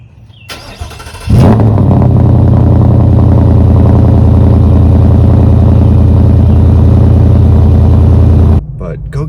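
V8 truck with a loud aftermarket exhaust cold-starting at 6 a.m.: a quiet low hum, a brief starter crank, then the engine catches into a loud, deep, steady idle that cuts off abruptly near the end.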